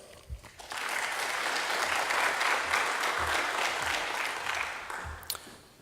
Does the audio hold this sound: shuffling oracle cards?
no